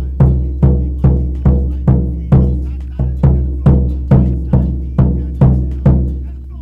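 A Cook Islands pa'u drum beats out a fast, even pulse with deep booming hits, roughly two per second. The strikes are loud and close, with no voices.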